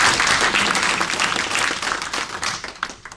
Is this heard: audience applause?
yes